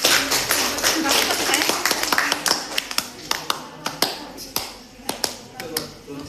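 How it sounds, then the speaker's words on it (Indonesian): Children in a classroom applauding their classmates, a burst of scattered clapping that thins into sparse, uneven individual claps, with voices in the room. "Kasih tepuk tangannya buat teman-temannya."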